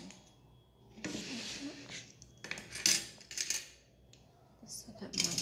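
A spoon being handled at a dinner table under quarantine, giving several light metallic clinks and scrapes against dishes, close and fairly quiet, with short gaps between bursts.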